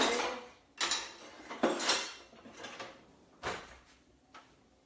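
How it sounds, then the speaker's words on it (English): A spoon scraping and clinking in a pot of spiced golden milk chai on the stove, a handful of irregular metallic knocks and scrapes, close and fairly loud, with quiet gaps between. "So just gently mixing this, making sure all the lumps are dissolved"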